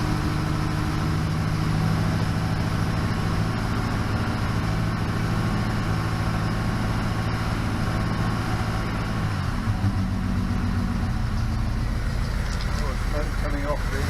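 A restored car engine runs steadily on its first start, a dense low idle with a rough mechanical rumble that drops in pitch partway through as the revs ease off from about 2000 RPM, loud and continuous.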